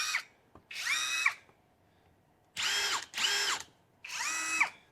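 A counterfeit Milwaukee cordless impact tool runs in five short whirring bursts with silent gaps between them, each a high mechanical whine heard up close with no talking.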